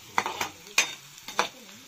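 Punjabi tadka Maggi noodles are stirred in a pan at a campsite in Kedarnath Wildlife Sanctuary, Uttarakhand, with three or four sharp metal utensil clinks over a faint sizzle.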